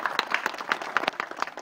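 Scattered hand claps from an outdoor crowd gathered at the opening of the eastern gate to the Iron Mountains Geopark, moderately close, uneven and thin rather than a full ovation.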